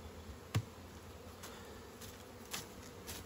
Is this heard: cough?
no